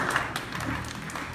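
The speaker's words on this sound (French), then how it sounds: "Nous demandons aux récipiendaires d'applaudir chaudement ces nouveaux couples." Warm applause from guests for newlywed couples at a Baptist wedding ceremony in Cap-Haïtien, Haiti, a steady wash of many hands clapping continuously through the short moment with a faint murmur beneath.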